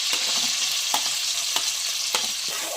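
Chopped onion sizzles in hot oil in a pan as the base for a monsoon-style stuffed crab curry, a steady close hiss broken by a few sharp spatula scrapes and stirs.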